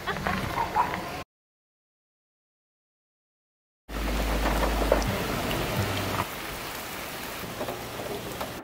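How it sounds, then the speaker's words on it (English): Rain falls outdoors as a steady patter, broken by a stretch of silence and then resuming loudly along with a low rumble. "so just going to have to put up with the rain"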